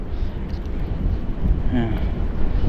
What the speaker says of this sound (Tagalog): Parang bumabagyo dito sa lakas ng hangin.